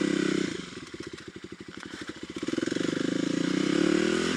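A motorcycle rides over a rough, closed road with plenty of ground clearance, its engine note pulsing in rapid rhythmic beats that dip and then swell louder, with clattering from the uneven surface throughout.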